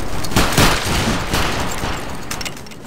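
A musket volley crackles in the video game Battlegrounds 3 as a line of soldiers fires together during a line battle, with loud overlapping shots in a rolling fusillade that fades over a few seconds.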